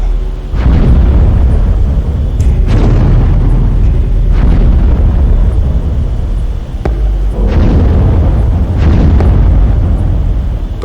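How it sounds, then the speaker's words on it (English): Underwater explosions churn a lake in a cinematic sound effect, a series of deep, rumbling booms swelling and rolling one after another, loud and heavy with no speech. "Some of which touched off underwater explosions that transformed the formerly placid lake into an expanse of frothing turmoil."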